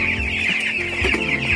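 Chickens clucking at a backyard coop in the Philippines, close and continuous, with overlapping clucks and rustling under a steady background hum.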